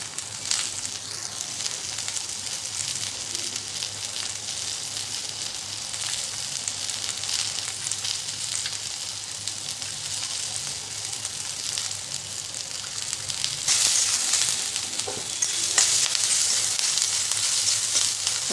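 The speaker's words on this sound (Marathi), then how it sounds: "बिलकुल गॅस कमी नाही करायचं फुल फ्लेमवरती भाज्या परतून घ्यायचं" Onion and capsicum sauté over a full flame for soya manchurian, giving a dense, continuous sizzle that swells a little louder toward the end, with faint stirring and no voices.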